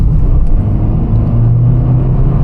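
A Toyota Yaris driving along a road, its engine giving a steady, loud low rumble with constant road noise from inside the cabin, no voices.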